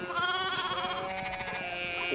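Sheep bleat in the medieval-village game Pentiment, a few wavering bleats layered over ambient game background, fairly clear and close with no speech.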